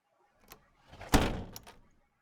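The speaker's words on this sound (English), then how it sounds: "The door opens, and Jim steps in and closes it." A door is shut inside a room, a single solid thump with a brief rattle, preceded by a faint click of the handle and followed by a couple of quieter knocks as it settles.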